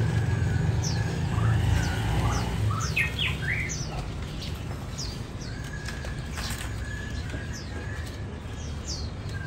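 Many caged songbirds from a Vietnamese bird seller chirp steadily, with bright repeated tweets and short calls layered over a constant low background hum.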